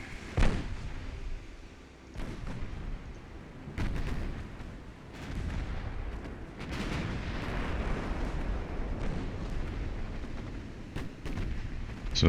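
Naval shells boom repeatedly in the Ultimate Admiral: Dreadnoughts warship battle, heavy gunfire and impact thuds rolling one over another in a dense, continuous barrage with sharp blasts punctuating the rumble.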